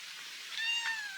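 A cat in a traditional mud-built village in Oman gives a short, faint meow near the end of a quiet stretch, a single thin rising-and-falling call with no talking over it.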